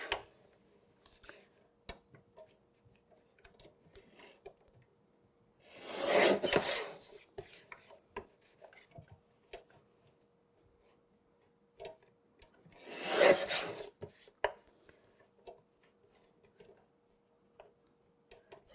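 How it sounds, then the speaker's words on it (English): An Xcut paper trimmer slices through card images, two distinct swishing blade passes a few seconds apart, each a close, rasping cut, with faint clicks and handling noises between them. "So this is the Xcut trimmer, and this does actually cut up to 12 inches."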